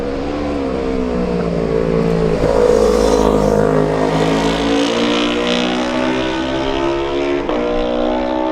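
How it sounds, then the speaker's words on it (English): Racing motorcycles, including a Kawasaki, roar past during the Manx Grand Prix newcomers race at Ballacraine on the Isle of Man, a loud engine howl that holds steady for several seconds as the bikes sweep by close. "behind those 2 riders is number 22, Barry Sheehan on his Kawasaki"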